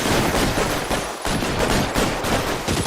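Gunshots from L.A. Noire come as loud, rapid overlapping bursts of gunfire with a brief pause in the middle, heard alone.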